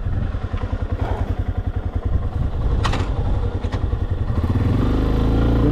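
A Yamaha Tenere 250 motorcycle on a long-distance ride toward Ushuaia in Tierra del Fuego, its engine running steadily with a pulsing low thrum and a few clattering knocks. No one speaks.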